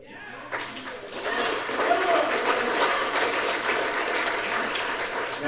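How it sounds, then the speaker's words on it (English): Audience at a political event bursts into sustained applause, building from a quieter start into dense, steady clapping that fills the room for several seconds. "Now you all clap."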